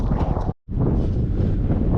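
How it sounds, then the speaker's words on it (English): Strong wind buffets the microphone outdoors, a steady low roar with a brief dropout near the half-second mark before the gusting resumes, no talking. "It's pretty windy today."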